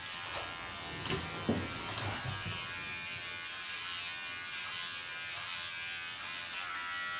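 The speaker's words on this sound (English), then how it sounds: "Use my clipper as a comb by putting the blades to the back and softly combing into the line of cutting" Electric hair clipper cutting hair, a faint steady buzzing hum with soft intermittent rustles and brief louder bursts as the blades move through the hair, close and quiet.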